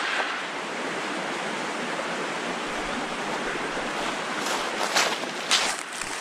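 A winter creek in the Catskills flows steadily in a broad, even rush of water that holds at a constant level throughout.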